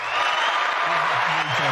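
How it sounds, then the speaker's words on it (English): A round of applause gives dense, even clapping noise that fills the short moment, with a voice talking over it. "Give him a little round of applause."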